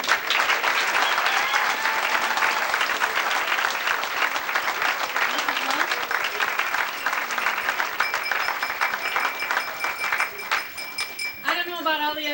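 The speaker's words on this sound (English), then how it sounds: "they deserve a well round of applause for the work they have done" Audience at a senior class dinner applauds the senior class officers, a dense, steady roar of many hands clapping for about twelve seconds, with faint background voices and a brief clatter near the end.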